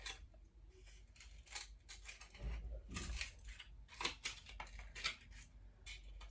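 Scissors snip small V-shaped notches into paper corners for poppy petals, a run of quiet, close, irregular crisp cuts and rustles.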